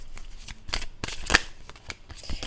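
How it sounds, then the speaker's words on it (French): A deck of Osho oracle cards is riffled and shuffled by hand in a few quick, close bursts of papery flapping and slapping, with short pauses between each shuffle. "on va prendre les oracles d'Osho. quand même bien les mélanger"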